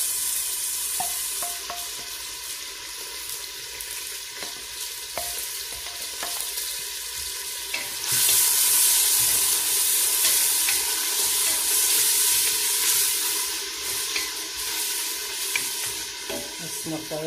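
Onions fry in hot oil for a lentil soup, giving a steady, close sizzle with faint stirring that swells noticeably louder and brighter halfway through and stays strong to the end.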